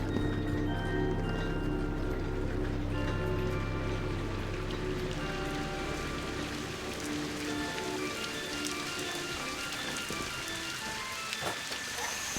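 Rain falls steadily in the Viewfinder video game, a constant patter of drops on surfaces with occasional sharper ticks, layered over low sustained ambient music tones that thin out partway through.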